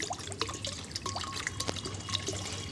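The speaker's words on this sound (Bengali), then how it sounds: "প্রথমে একটা কড়াইতে আমি কিন্তু কিছুটা পরিমাণ পানি দিয়ে দিলাম" Water is poured into a wok, a short close trickle with light drips and splashes, fairly soft and alone.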